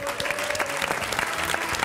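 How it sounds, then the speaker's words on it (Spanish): An audience on a Spanish television game show applauds a guest named John, a dense, continuous burst of clapping from a crowd, close and steady throughout, with voices mixed faintly beneath. "Vamos a darle un aplauso."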